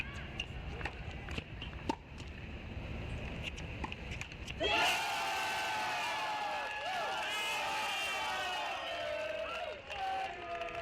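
A crowd at a college tennis match, a Texas Longhorns NCAA championship round, bursts into loud, sustained cheering and shouting after a point. Quieter murmurs come before it, and a commentator talks over the start.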